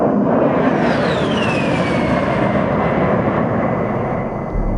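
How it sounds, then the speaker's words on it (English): A-10 military jets roar loudly and steadily overhead, a dense broadband engine rush with a descending whine sweeping through as one passes close by. "Incredible experience having control over these jets flying around"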